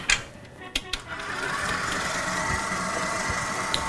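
An electric mixer beats cookie dough after a teaspoon of vanilla goes in. A few clicks and bumps come first, then a steady motor whir runs close by on its own.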